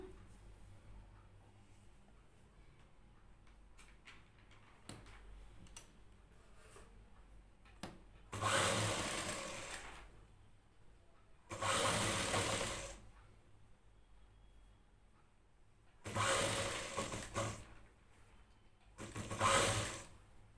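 A sewing machine stitches a hook strip onto a plain blouse in four separate loud bursts of whirring, with quiet pauses between runs and no talking.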